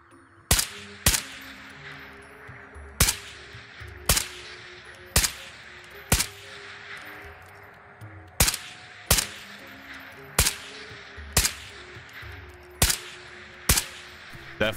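Rifle fire in the video game Ghosts of Tabor: a dozen or so sharp, loud shots come singly and in quick pairs at uneven intervals, each one trailing a short echo over a low background hum.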